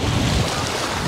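Sea waves and wind on a shore near Blagoveshchensk, a dense, loud wash of surf with buffeting wind noise on the microphone, brief and continuous with no voices.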